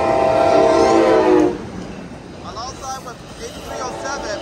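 An Amtrak Capitol Corridor passenger train at 98th Avenue in Oakland, California sounds a loud, harmonically rich horn blast. The horn cuts off into the duller rumble of the passing cars, with faint voices nearby.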